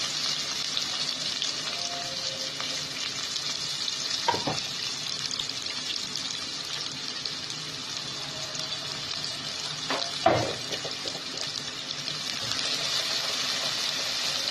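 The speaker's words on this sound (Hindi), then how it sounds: "प्याज डाल के थोड़ा सा हल्का सा प्याज को फ्राई करेंगे" Onions and curry leaves frying in cooking oil in a pan for masala mutton, a steady close sizzle with two brief sharp crackles or stirs partway through, no talking.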